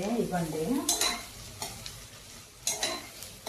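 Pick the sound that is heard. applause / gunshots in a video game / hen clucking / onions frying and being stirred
onions frying and being stirred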